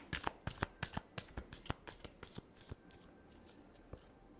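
Tarot cards being shuffled in a rapid series of crisp riffling snaps, about a dozen close bursts that slow and thin toward the end, heard alone with no talk.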